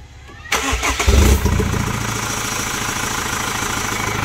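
A Chevrolet Captiva engine cranks briefly with a few sharp turns, catches, and settles into a steady, loud idle that continues to the end, with the exhaust not fitted.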